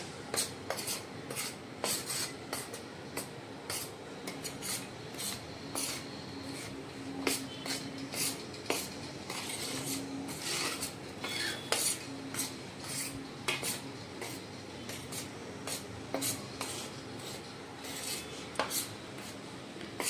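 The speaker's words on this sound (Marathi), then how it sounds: "तर हे पीठ आता आपण मिक्स करून घेऊया।" Rice flour dough is mixed in a bowl, with irregular close scraping, tapping and rubbing sounds from hand or utensil against the bowl, fairly quiet and continuous, with no talking.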